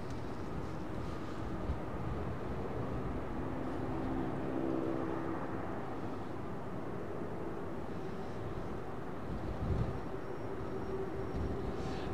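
A jet airliner departs runway 09R at London Heathrow, a steady low, distant engine roar rumbling evenly throughout without voices.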